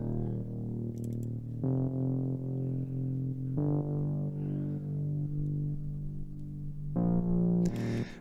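A deep bass line from the Diva software synthesizer steps through sustained chord changes from the 6 to the 7 to the 1, each note held for about a second or two, with faint clicks and no voices.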